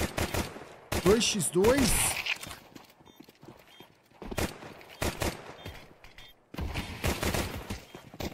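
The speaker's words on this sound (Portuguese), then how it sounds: "quanta trocação de tiro é essa, velho?" In the Counter-Strike match, bursts of rapid gunfire ring out in several clusters over excited esports commentary, loud and sharp, separated by short quieter gaps.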